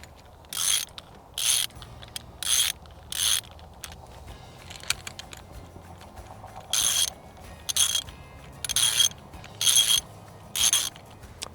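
Bursts of metallic ratcheting as nuts are tightened on U-bolts through a plate and gate bracket on a T-post fence, several short clicking runs in two groups with quiet gaps between.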